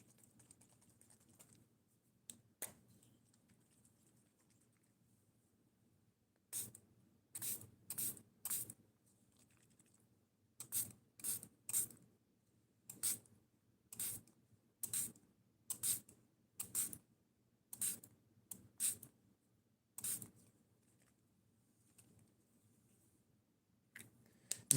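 Spray can shaken by hand in bursts of rapid rattling strokes, close and crisp, separated by short quiet pauses, with no talk.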